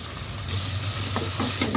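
Korma paste of fried onion, garlic, pistachio, peanut, coconut and mustard paste sizzles in a pan while a spoon scrapes and stirs it, a constant loud fry with a few quick stirring strokes near the end.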